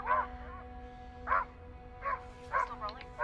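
A dog barks in short, fairly loud bursts, four or five separate woofs spread over a few seconds, with a steady hum beneath and a faint yelp near the end.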